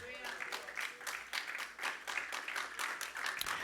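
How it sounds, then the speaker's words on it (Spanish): A church congregation claps hands together in a fairly steady rhythm during a sermon, the clapping close and continuous with voices mixed underneath. "Dale palmas al Señor."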